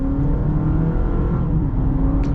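A hybrid SUV with an eCVT powertrain, either a 2024 Honda CR-V Hybrid or a 2024 Toyota RAV4 Hybrid, pulls away with a smooth, steady engine drone and a whirring hum, close and uninterrupted.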